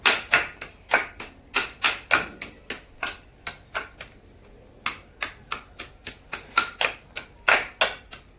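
Garlic and other ingredients pounded by hand for a mushroom pepper thokku: a loud, close series of sharp, evenly spaced thuds, about two to three per second, with a brief pause near the middle and no speech.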